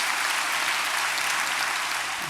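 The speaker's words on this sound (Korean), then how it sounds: "우리 하나님께 큰 박수 올려드리십시오." A church congregation gives a sustained burst of applause during a worship service, steady dense clapping filling the whole moment with no voices over it.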